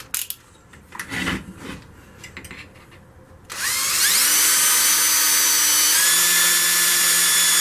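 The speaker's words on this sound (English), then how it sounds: "So, got my drill." Screws or pilot holes going into metal as a power drill mounts a cheap benchtop mill to a platform: a few scraping handling noises, then a loud, sustained high-pitched motor whine that steps in pitch.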